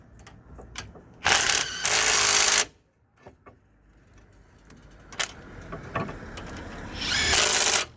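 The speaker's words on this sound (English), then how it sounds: "So just gonna drive it in with impactor." An impact driver drives in the brake caliper clamp bolt on a Nissan Micra K13 front brake, firing two loud, close hammering bursts with a third near the end and light tool handling noises between them.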